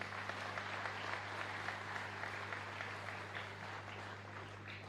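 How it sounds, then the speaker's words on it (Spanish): A congregation applauding the choir during Mass at a parish church, steady dense clapping from many hands over a low hum, continuing for several seconds. "Fuerte aplauso, muchísimas gracias."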